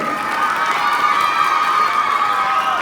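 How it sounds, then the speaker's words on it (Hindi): An audience at a school Grandparents' Day celebration cheers and claps, with a dense, steady wash of crowd noise and children's shouts filling the hall for a few seconds. "एक बार तालियों से जोरदार स्वागत कर दीजिए।"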